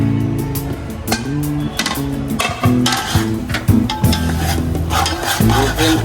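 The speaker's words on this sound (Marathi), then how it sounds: "जोपर्यंत पूर्ण आपलं तेल सुकत नाही तोपर्यंत आपण पूर्ण हलवून घेऊ" Chopped tomato, onion and ginger-garlic paste are stirred in oil in a pan for a village-style chicken dish. Loud, close scraping and rubbing strokes repeat in an uneven rhythm over a low background hum.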